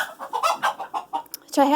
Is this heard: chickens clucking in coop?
yes